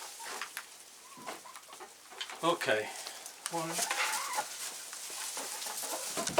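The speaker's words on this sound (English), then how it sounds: "Hello, chickens." Chickens cluck and stir inside a dark coop at night, soft scattered calls and rustling close by, with a person briefly speaking.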